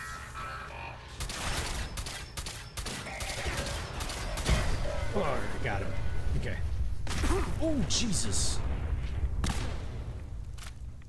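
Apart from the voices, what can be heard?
explosion and gunfire in the video game Fallout 4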